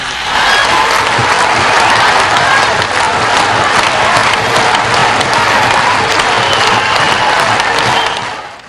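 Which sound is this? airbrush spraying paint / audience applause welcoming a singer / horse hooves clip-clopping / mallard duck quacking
audience applause welcoming a singer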